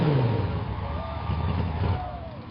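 A muscle car with big tires and lots of chrome revs its engine at a drag-race starting line, giving a loud, sustained mid-range roar with a falling pitch sweep near the start and rising surges later, with no voices.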